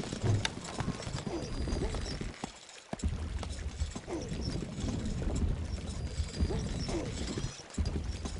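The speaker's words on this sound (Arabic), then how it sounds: "الحصان سريع." Horse hooves clip-clop in a fast, continuous rhythm in the video game Stronghold Crusader, a steady galloping patter with a brief gap midway.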